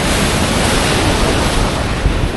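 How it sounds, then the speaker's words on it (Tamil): Sea waves surging onto the shore at Galle beach in Sri Lanka make a loud, steady roar of surf with wind noise buffeting the microphone, continuous and close throughout. "போஸாக தான் வருது தண்ணி"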